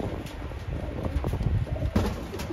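Pakistani high-flying pigeons, sold as pairs, give soft low cooing calls that swell and fade in short repeated bursts, close by over steady background noise.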